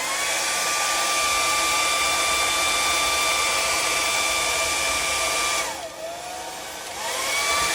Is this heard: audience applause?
no